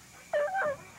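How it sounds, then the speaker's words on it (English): A dog whimpers once in a short, high, wavering whine after a violent struggle, fairly close and clear over a quiet background. "I could hear Duke kind of whimpering."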